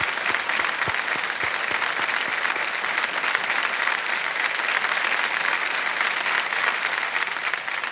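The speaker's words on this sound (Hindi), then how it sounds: "तालियां बज जाए इनके लिए।" A quiz show's studio audience breaks into loud, sustained applause, with sharp individual claps standing out at first before settling into a thick, even roar that lasts about eight seconds.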